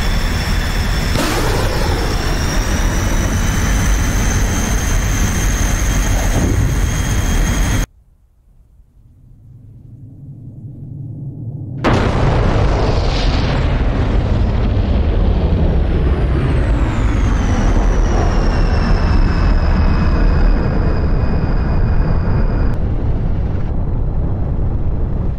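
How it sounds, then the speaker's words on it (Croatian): Two S-24 unguided rockets fire from a MiG-21 in the DCS World flight simulator: a loud, steady jet roar cuts out abruptly, then surges back with a whine that slides down and settles. "Evo, dometu smo, ispaljujemo dvije rakete S-24."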